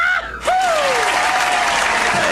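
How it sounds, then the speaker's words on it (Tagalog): A loud burst of applause and clapping from an audience rises abruptly and holds steady, with a brief whoop at the start, at an event in Davao del Sur about the Olympic-size swimming pool repair. "Ayaw palakpak diha kay giguba, palakpak mo."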